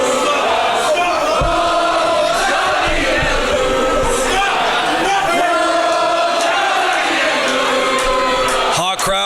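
A wrestling crowd packed into the Germania Club in Hamilton, an NWA event venue, chants loudly and steadily throughout, with voices talking over the roar.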